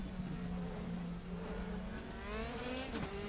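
A race car engine roars in the RaceRoom racing video game, a loud, close, sustained drone whose pitch climbs and dips through gear changes as the car laps, with no voices.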